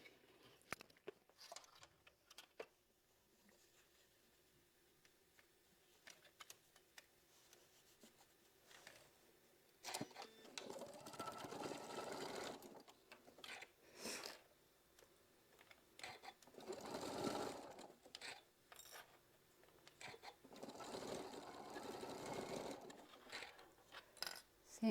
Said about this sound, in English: let's get this side sewed